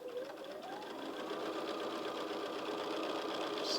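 A sewing machine stitches quilt pieces in one continuous, even whirring run that builds slightly in speed, close and steady with no talk.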